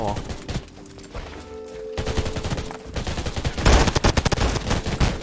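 Rapid M249 machine-gun fire in the Undawn video game comes in dense, loud bursts of sharp shots, strongest toward the end, over game noise with someone speaking briefly.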